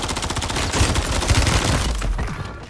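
Rapid, dense gunfire in the battle royale game Fortune's Keep, loud and close, with overlapping bursts of shots filling the whole moment before tapering slightly at the end.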